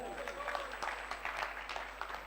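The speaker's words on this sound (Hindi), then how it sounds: "आनंद आया तो ताली बजाइए।" Audience clapping at a religious darbar gathering in Surat, Gujarat: dense, steady applause from a large crowd filling the whole moment, with crowd voices mixed in.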